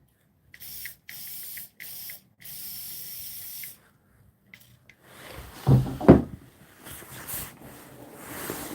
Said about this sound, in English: I'm gonna lower this and have it be a mist instead.